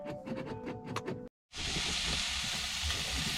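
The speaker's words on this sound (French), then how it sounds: "on se fait des petits lardons de dorade coryphène avec des petits oignons" Mahi-mahi (dorado) pieces sizzling with onions in a hot pan, a steady loud hiss that cuts in after a short silence, following a stretch of clattering sounds.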